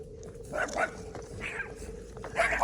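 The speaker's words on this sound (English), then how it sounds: "Look at the cutest little tiniest dog." A tiny dog barks in a few short yaps on a sunny neighborhood street in Sebring, Florida, heard moderately close over steady outdoor background noise.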